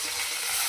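Bata fish fries in a pan right after being flipped, giving a steady, close hiss of sizzling oil with no pauses.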